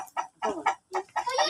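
Chickens cluck in quick bursts close by, about six short choppy calls in rapid succession, loud and clear with brief gaps between them.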